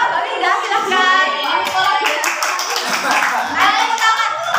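Dense, continuous applause from a classroom group during a microteaching lesson, steady hand clapping filling the whole stretch with voices mixed in underneath.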